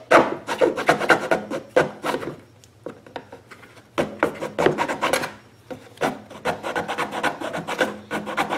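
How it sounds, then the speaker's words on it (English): A round chainsaw file rasping the base of a notch, in quick bursts of scraping strokes at close range, with a short pause midway before filing resumes. "I'm just going to take a chainsaw file and file the base of this notch"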